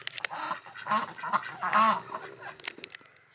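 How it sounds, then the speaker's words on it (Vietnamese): Farm ducks quack in a loose cluster of nasal calls, some close and loud, others scattered further off, with little else around them. "Đây là những con vịt nhá."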